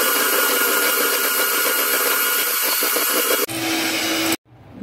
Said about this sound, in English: I'll beat this till it reaches the soft peak stage.